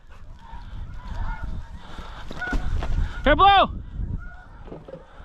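Snow geese honking in a flock overhead during a waterfowl hunt, a loud burst of close honks rising over wind and scattered calls, with a man giving commands to a retriever dog.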